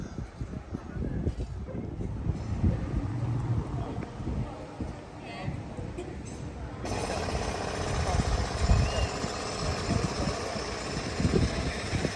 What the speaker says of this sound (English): Everywhere I go these days there seems to be somebody digging a hole or using a pneumatic drill very loudly.